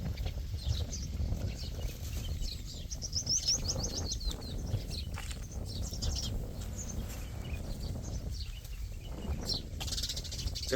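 Sparrows chirp in a green forest at the Adani Van nature project, with scattered high, faint twitters and short call bursts over a low, steady background rumble.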